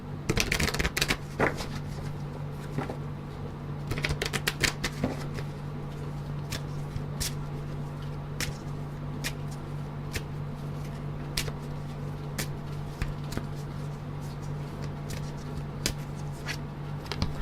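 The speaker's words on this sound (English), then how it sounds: "I'm pulling 4 advice cards for you guys." Advice cards are shuffled and pulled in a run of crisp, rapid flutters and clicks, busier at the start and then in steady bursts over a constant low hum, with no speech.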